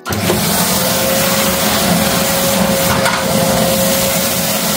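A mid-range vacuum cleaner, priced around 100 euros, runs steadily and loudly throughout with a constant motor whine and broadband airflow hiss, close to the listener and with no talking.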